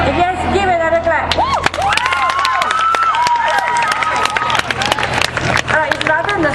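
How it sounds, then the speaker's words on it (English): An audience claps and cheers after a dance at a campfire opening ceremony, loud and sustained, with shouts and voices mixed through the applause. "If yes, give another clap."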